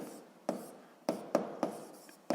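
Writing a physics formula by hand, a series of short sharp strokes and taps at an uneven pace, close and quiet against a low hiss.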